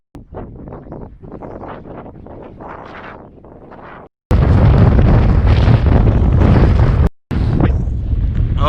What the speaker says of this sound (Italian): quasi impossibile andare avanti, è una lotta strenua contro il vento.